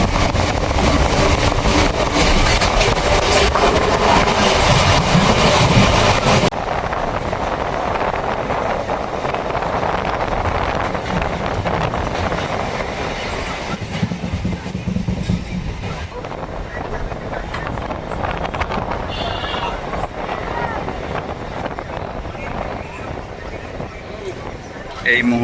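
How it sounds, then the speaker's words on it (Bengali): A Sealdah–Barasat local train running on its tracks: a continuous loud rumble and rattle with heavy wind noise throughout, easing slightly after the first few seconds but never stopping. "এই মুহূর্তে আমাদের ট্রেন প্রবেশ করছে বিরাটিতে।"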